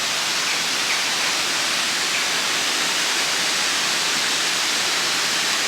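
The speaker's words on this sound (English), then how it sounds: "pretty waterfall dropping down" Steady rushing water close by, a dense, unbroken hiss like a small waterfall pouring into a stream.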